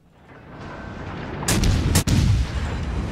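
Heavy naval gun salvos from the Italian cruiser Paolo Emilio in the naval combat game World of Warships: Legends: two loud, booming broadside blasts about half a second apart over a rumbling battle backdrop.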